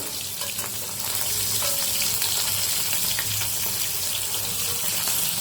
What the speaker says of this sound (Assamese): মাছখিনি এয়া মই ৰেডি কৰি লৈছো এতিয়া লাহে এনেকৈ ফ্ৰাই কৰি লৈছো